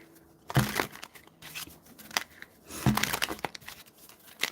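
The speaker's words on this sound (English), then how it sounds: "Let's do some shuffling." Tarot cards being shuffled by hand: close, papery riffles and slides in two louder bursts with softer flicks between, no talking.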